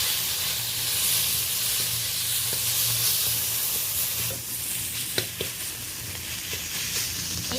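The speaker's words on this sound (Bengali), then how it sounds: "হালকাভাবে নেড়ে দিচ্ছি" Onion and tomato with salt and turmeric frying in a pan, a steady close sizzle and hiss with occasional scrapes and clicks of a spoon stirring, continuous throughout without talk.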